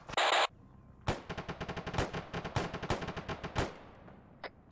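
Gunfire in the military video game Arma 3, heard as a rapid, rattling string of shots lasting a few seconds, preceded by a short loud burst and ending with one faint final shot.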